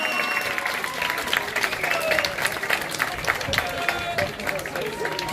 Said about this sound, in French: Allez, on l'applaudit plus fort que ça quand même.